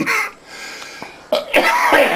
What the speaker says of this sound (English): That's an inappropriate cough